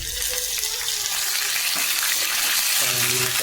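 Curry leaves dropped into hot oil with dried red chillies for a Kerala roasted-coconut sambar, a loud, steady close sizzle and crackle of frying that runs throughout, with a little stirring.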